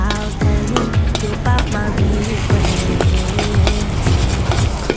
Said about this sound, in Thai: แล้วก็กะปิที่คั่วไว้แต่ทีแรกละก็ลงไปผัดนะ